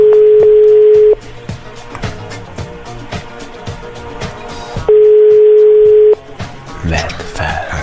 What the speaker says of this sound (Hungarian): a hívott mobiltelefon kapcsolásáig kis türelmét kérjük